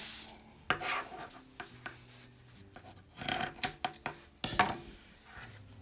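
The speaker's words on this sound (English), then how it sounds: "Now I'm going to trim the lining. I'm going to cut in there and in there, and then trim off these ends." Scissors snip and rasp through purse lining fabric on an in-the-hoop embroidered purse, several short close cutting strokes in irregular bursts with quiet gaps, no speech.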